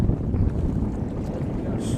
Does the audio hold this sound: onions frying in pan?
no